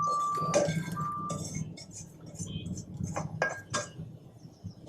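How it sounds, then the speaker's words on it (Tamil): Roasted black urad dal, curry leaves and spices tipped onto a plate, with light clinks and scattered rattles of dry grains against the dish, fairly quiet and close. "எல்லாத்தையும் ஒரே தட்டில் கொட்டிக்கிறோம்"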